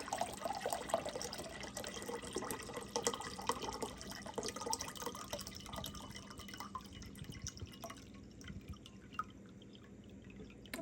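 Coconut water poured into a container to make sea moss, a trickling, dripping stream of liquid that is louder at first and thins toward the end, with no speech.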